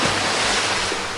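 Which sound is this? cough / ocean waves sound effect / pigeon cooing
ocean waves sound effect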